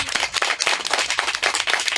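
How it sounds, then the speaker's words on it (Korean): Audience clapping at a public town-hall debate forum in Korea, a dense, steady patter of many hands applauding to welcome a local association chair, fairly close and continuous with no talk over it. "자, 박수로 맞아."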